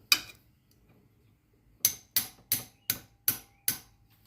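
A ratchet hammer taps a shifter shaft seal on a 2000-2003 Honda TRX 350 ATV: one sharp metallic tap, a pause, then six quick, evenly spaced close knocks in a quiet workshop.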